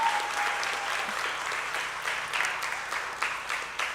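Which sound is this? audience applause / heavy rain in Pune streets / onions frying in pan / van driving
audience applause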